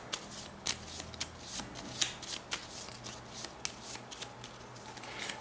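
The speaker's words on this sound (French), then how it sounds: "Je prends ma pile de cartes défaussées." A pile of discarded playing cards is shuffled by hand during a Harry Potter Hogwarts Battle board game, producing a quick run of crisp riffling flutters and soft slaps, close up and fairly quiet.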